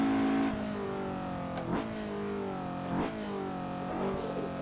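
A turbocharged Mazda MX5 in a racing game climbs through the revs with a steady rising drone, broken by three gear shifts that each drop the pitch before it builds again, loud and close with no talking.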